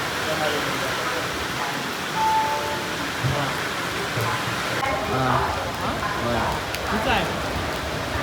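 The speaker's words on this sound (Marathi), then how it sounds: "पाऊस बरा झाला आहे" Heavy monsoon rain hisses throughout with a dense, even patter in the Konkan, while faint indistinct voices and small sounds come and go underneath.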